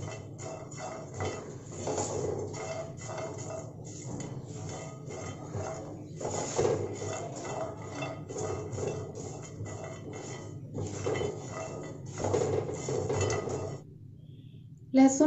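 Garlic dry-roasting in a pan for a powder chutney gives a continuous dry rasping and scraping as it is stirred and pushed around, close and fairly quiet, in uneven bursts with brief pauses.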